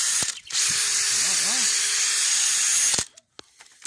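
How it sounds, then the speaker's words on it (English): Wire brush spinning on a power drill to clean battery terminals on a DAF LF horsebox, a loud, steady high whirring grind for a few seconds that stops abruptly, followed by brief clicks and handling noises. "wire brush on my drill and some emery cloth, so I'm just going to clean those terminals up there now"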